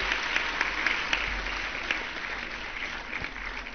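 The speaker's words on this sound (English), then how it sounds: "Give her a huge round of applause, girls." Steady applause from a school audience, continuous clapping with a few sharper claps standing out, filling the whole stretch without pause.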